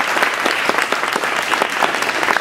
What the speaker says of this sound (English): I would give those guys a big round of applause.